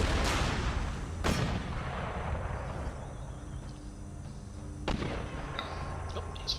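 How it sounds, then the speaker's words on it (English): Mortars in Empire Total War fire in a few sharp, booming reports spaced seconds apart, heard over a steady rumble of battlefield noise, with no voices. "There's these mortars. We set them up very, very close."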